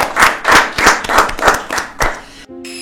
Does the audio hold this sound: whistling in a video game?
no